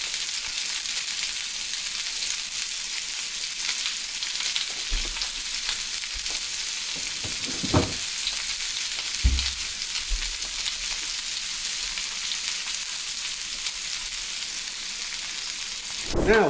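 Chuck eye roast sizzles steadily in a pan with cumin, a constant close frying hiss with a few brief knocks and clatters of utensils, no talking.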